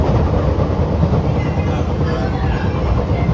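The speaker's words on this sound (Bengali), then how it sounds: "এইটা হলো মুম্বাইয়ের পর পশ্চিমবঙ্গের প্রথম লোকাল ট্রেন।" An AC local train runs from Sealdah to Ranaghat in heavy rain, giving a loud, steady rumble and rolling roar throughout, with no break in the noise.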